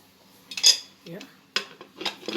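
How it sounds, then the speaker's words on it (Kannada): A pressure cooker lid is shut over a matar paneer pulao in a home kitchen: three or four sharp metallic clanks and rattles, close and fairly loud, separated by short quiet gaps. "ಲಿಡ್ ಮುಚ್ಚುತ್ತಾ ಇದ್ದೀನಿ"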